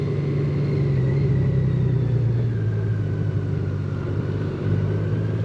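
A Honda Goldwing motorcycle engine rumbles steadily and close at low revs, a continuous deep drone with no speech, near the town of Sarreguemines.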